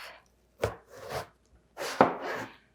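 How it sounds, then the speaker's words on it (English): A knife cuts through eggplant on a board to cube it, for baba ganoush. Several crisp, close chopping strokes come in two short groups, each stroke a sharp thud with a brief soft slicing tail. No talk. "So we're just going to cube it. I'll first cut it in half,"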